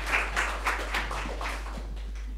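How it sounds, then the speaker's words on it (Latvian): Audience applause at a public talk on social innovation held at Āgenskalns market in Latvia, heard as a short run of spaced claps over a steady low hum, moderately loud and fading out. "Ar aplausiem!"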